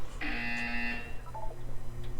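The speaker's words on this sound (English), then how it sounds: "You will hear a buzzer." A single flat electronic buzzer from the video game Portal 2 sounds for about a second, steady and fairly loud, then fades over a faint background hum.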